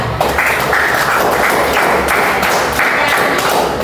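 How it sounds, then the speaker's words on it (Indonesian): A classroom of students claps for the second group during a teacher-training lesson on Islamic prayer practice, a steady dense patter of hands sustained at close range throughout. "Tepuk tangan untuk kelompok kedua"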